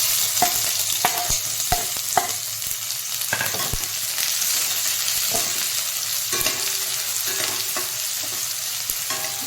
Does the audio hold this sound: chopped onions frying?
yes